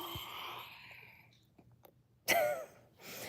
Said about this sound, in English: Did you hear that dramatic yawn?